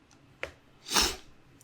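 A single sharp nasal sniff, fairly close and brief, with a faint short breath just before it and quiet background otherwise.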